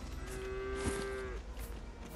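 A cow in the video game LEGO Fortnite gives one long, sustained moo over a soft game ambience, with no talking.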